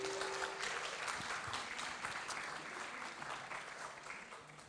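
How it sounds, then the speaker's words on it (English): Wedding reception guests clapping in a sustained round of applause that fades slightly toward the end, a dense crowd sound heard from within the room. "Big round of applause for Kaylee."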